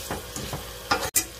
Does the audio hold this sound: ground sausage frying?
yes